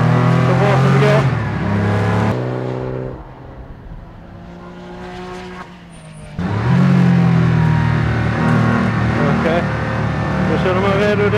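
Porsche race car engine at Sturup Raceway during a Porsche Sports Cup event, a loud sustained roar that dips briefly to a lower idle-like drone before surging back at full volume, with gear-like pitch steps throughout.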